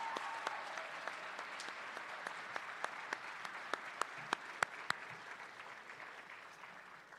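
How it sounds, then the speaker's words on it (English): An audience at a college athletics hall of fame induction ceremony applauds steadily, a dense wash of clapping with a few sharper, louder claps standing out, continuing without talk before slowly thinning. "would you give them a round of applause?"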